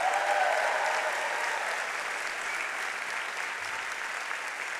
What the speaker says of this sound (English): let's give a round of applause to Hoya MSB class of 2023